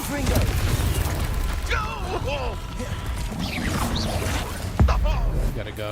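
A Confringo fire spell in the video game Hogwarts Legacy lands as one short, sharp burst near the end, heard beneath steady talking and busy game sounds.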